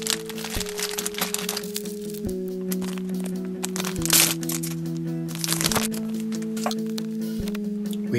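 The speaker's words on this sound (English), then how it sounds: "today we are opening another 20 of these Disney Movie Stars blind bags" Crinkly plastic wrappers of Disney Movie Stars trading card blind bags are torn open and handled, with repeated sharp cracks and crumpling over a steady electronic hum.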